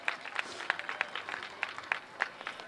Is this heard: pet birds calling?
no